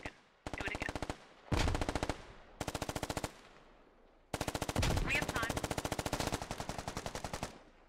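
Automatic weapons fire in the military shooter game Squad, several rapid bursts of close, loud machine-gun fire separated by brief gaps, ending in a long sustained burst, with faint talk underneath.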